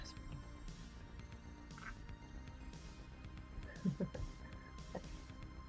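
Birds outdoors, sounding like ducks, quack faintly and intermittently in the distance beneath a low steady background, with a brief cluster of louder calls near the end.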